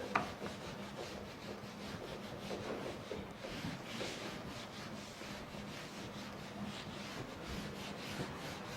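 Chalk is rubbed off a board to erase it, producing a soft, repeated scratchy rasping in uneven strokes, faint and close, with no talking.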